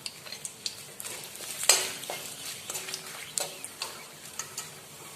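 Bay leaf and dried chili hitting hot oil in a pan while a rajma paneer dish is cooked, giving a soft, steady sizzle with scattered ticks and a few sharper pops and stirring clicks, close and fairly quiet, with no talking.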